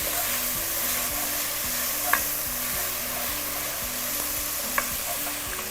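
Roasted eggplant and garlic stirred in a hot pan give a steady close sizzle. A utensil knocks against the pan twice, sharply.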